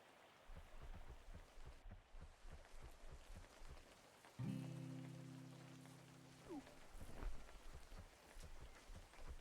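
Soft rain falls in the fishing video game Webfishing, a faint, steady patter with a brief ringing tone partway through.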